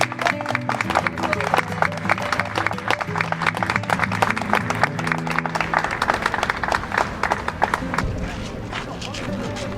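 An outdoor crowd at a street demonstration in front of a European summit bursts into loud, sustained applause, sharp individual claps layered thickly and close, with voices and a low hum running underneath throughout.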